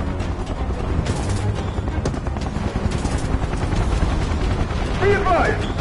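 Video game gunfire: a rapid series of shots and bursts against a dense rumble of action noise, moderately loud and continuous, with voices talking over it.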